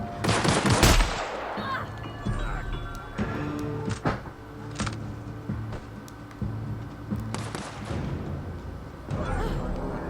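Shotgun blasts in The Outer Worlds: several sharp, loud gunshots spaced a few seconds apart over a busy game soundscape, with a voice briefly talking between shots.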